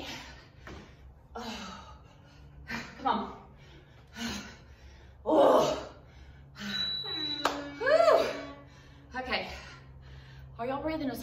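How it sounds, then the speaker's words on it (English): Heavy, gasping breaths and sighs come between short bursts of talk after a hard bodyweight workout, close and uneven, with a faint steady hum in the background. "Are y'all breathing as hard as I am?"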